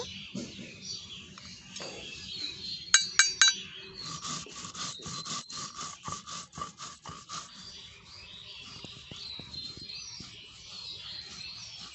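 Yellow mustard seeds ground into a fine paste on a grinding stone in a kitchen, heard as close rhythmic rubbing and scraping strokes with a few sharp clicks, fading toward the end, with no talk.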